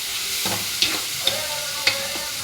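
Turmeric and moong dal frying in a pan, a steady sizzle throughout with a few sharp spoon scrapes and clinks against the metal, close and alone without talk.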